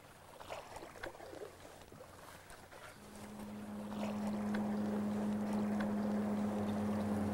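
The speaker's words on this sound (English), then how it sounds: "Is that an airboat coming this way?" An airboat approaches across Everglades water, first faint, then a steady droning engine tone that grows louder and closer over the last few seconds, over wind and rustling grass.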